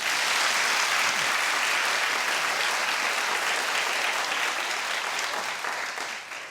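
A television talk show studio audience bursts into loud, dense applause that holds steady, then begins tapering off toward the end.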